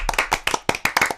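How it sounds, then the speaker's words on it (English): An audience at an evening event tries to clap together: uneven bursts of hand claps about every beat, close and fairly loud, ragged rather than unified. "Come on, guys, let's try that clap."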